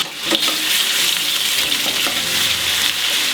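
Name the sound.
pork browning in a frying pan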